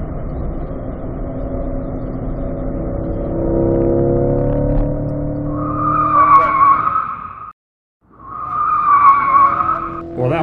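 A C8 Corvette on a race track, engine droning steadily before the tires break into a loud, sustained squeal as the rear slides out, cutting briefly to silence and then resuming the screech.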